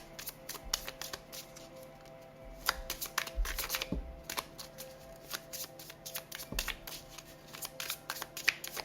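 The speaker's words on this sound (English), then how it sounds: "It's taking a little longer for me to get cards out shuffling because this deck is so new." A brand-new, stiff tarot deck is shuffled by hand in quick, steady riffles and flicks, close and fairly quiet, carrying on without pause and without speech.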